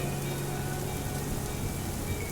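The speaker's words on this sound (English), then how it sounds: "comforted by the white noise of the rain" Rain falls in a steady, even hiss like white noise, constant in level with a faint low hum underneath and no voices.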